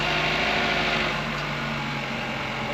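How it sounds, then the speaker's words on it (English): GMC Terrain engine idling steadily after a vacuum pump install, a smooth, quiet continuous hum with a faint high whine, close by and without voices. "I actually can't believe how much quieter the engine is."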